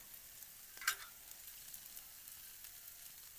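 Hash browns fry in bacon grease on a Blackstone flat-top griddle, a faint, steady, quiet sizzle with one brief scrape or stir near the start.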